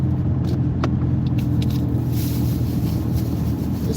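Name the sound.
car driving on a road at night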